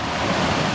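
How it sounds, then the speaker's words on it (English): A waterfall along the 100 Mile Wilderness trail roars nearby as a dense, steady broadband rush with no pauses or voices. "Just stopping by this waterfall for a minute"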